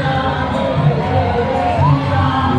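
A big crowd gathered outdoors for a Hindu festival in Southall, London, a steady dense murmur of many voices with scattered cheers and shouts, continuous and fairly loud throughout.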